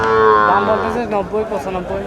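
Shahiwal bull calves at a cattle market in Nilphamari, a loud close moo that trails off into a lower bellow, with the market's murmur of voices behind it.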